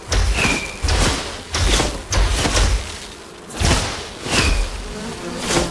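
Bees buzzing in the video game Enshrouded, repeated swelling drones rising and fading every second or so, fairly close and loud, with occasional brief high whines from a passing insect and no talk.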